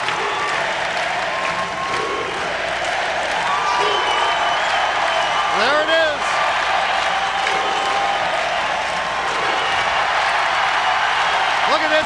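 An arena crowd at a Philadelphia Phantoms hockey game keeps up loud applause and cheering throughout, with a whistle-like rising tone and someone talking over the noise.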